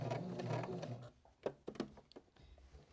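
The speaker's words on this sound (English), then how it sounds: "I'm going to go to the corner and I'm going to turn and sew across the bottom edge." Sewing machine stitching across the bottom edge of an upcycled shirt, a brief run of close whirring followed by a few faint clicks and handling knocks.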